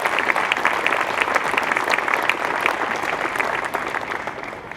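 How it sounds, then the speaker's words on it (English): A crowd applauds veterans at an outdoor Memorial Day parade, steady dense clapping that holds evenly for several seconds and fades slightly at the end, with no voices standing out. "Let's have a big round of applause for our veterans"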